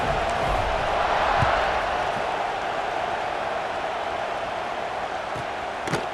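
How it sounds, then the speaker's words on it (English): Large stadium crowd at a football game buzzing after a score, a dense steady roar of many voices that holds even throughout and swells slightly early on. "this crowd is buzzing after that last score"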